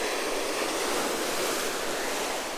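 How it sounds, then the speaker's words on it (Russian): Rough sea surf pounds a beach at Georgioupolis on Crete, a loud continuous roar of breaking waves with no voices. "Вот сегодня прям море бушует."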